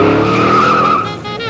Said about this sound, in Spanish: adapté este modelo incorporándole un motor de Gilela Macho 125 con muy bajo ruido